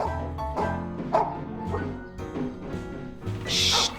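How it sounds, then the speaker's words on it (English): A dog in a children's cartoon barking angrily, a rapid run of loud woofs and yips close up, with no talk over it. "Herbie was barking in a rage."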